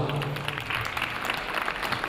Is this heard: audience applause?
yes